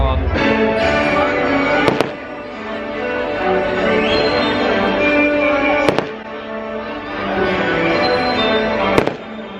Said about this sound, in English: They spent all their money on Joey Essex and 6 fireworks.